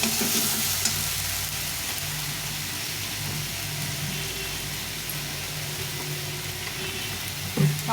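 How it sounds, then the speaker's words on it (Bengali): Potatoes fry in a pan with turmeric and Kashmiri chili powder for aloo dum, a steady close sizzle with stirring scrapes running throughout, no voices. "এটা দিয়ে ভালো করে ভেজে নেব।"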